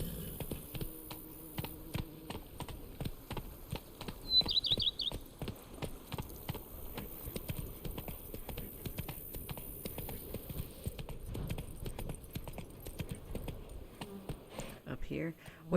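Hooves of the horse Roach clip-clop steadily in The Witcher 3, a regular rapid gait at moderate volume over ambient game sound, with a brief bird chirp early on.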